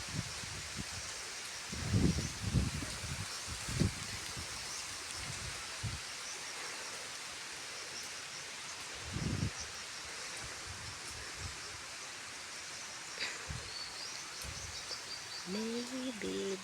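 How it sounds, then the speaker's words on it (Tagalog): Strong wind on a farm pushes through leaves in broad rustling surges that rise and fall over a steady airy hiss, with a brief chirp-like call near the end. "Hangin kaayo."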